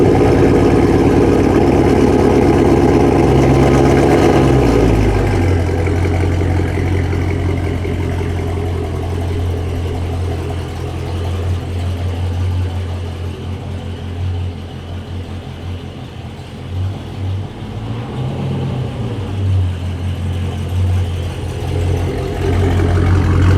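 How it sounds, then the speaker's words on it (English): Widebody Dodge Scat Pack V8 cold start: a loud rev flares at first, then settles into a steady, deep, rumbling high idle that continues to the end. "I can't start this video out without giving you guys a cold start."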